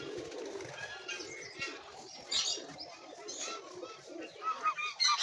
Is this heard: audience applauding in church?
no